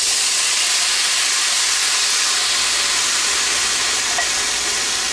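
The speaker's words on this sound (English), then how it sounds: "now I'm going to add my Rotel fire roasted." Canned Rotel fire-roasted tomatoes hit hot frying rice for Spanish/Mexican rice, setting off a loud, steady steam hiss and sizzle that fills the pan without pause.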